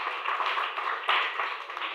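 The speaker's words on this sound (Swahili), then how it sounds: "Sikia Yesu makofi mazuri." Applause from a church congregation during a sermon: continuous, fairly dense clapping from many hands, steady throughout with a brief swell just after the midpoint, no voices on top.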